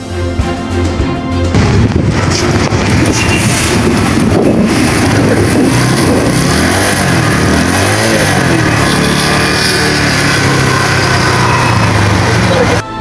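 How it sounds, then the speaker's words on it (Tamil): A Bajaj Pulsar 135 motorcycle engine starts and then runs steadily at idle, a loud, continuous buzzing drone close by that lasts throughout. "அந்த பைக்கை ஸ்டார்ட் பண்ணி வர சவுண்டை வந்து ஒருக்கா பரிசீலித்து பார்க்கலாம்"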